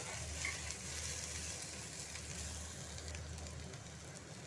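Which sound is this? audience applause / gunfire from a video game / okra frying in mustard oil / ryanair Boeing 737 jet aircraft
okra frying in mustard oil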